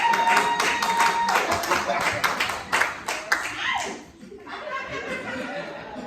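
Comedy show audience clapping and chuckling, a dense spatter of applause filling the first few seconds before thinning out, with light laughter mixed in.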